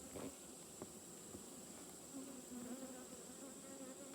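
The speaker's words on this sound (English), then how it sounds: "A lot of bees up here." Honey bees at a hive drone with a steady, faint buzz and scattered close passes and ticks.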